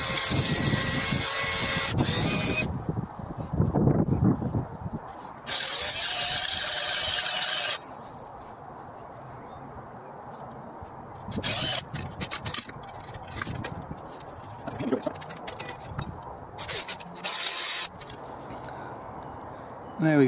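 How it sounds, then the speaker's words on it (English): A power drill boring a hole through a welded steel bracket for a Morris Minor seat mount, heard in several loud whirring and grinding bursts with quieter pauses between them. "what I'm going to do now is drill a hole in the middle of it"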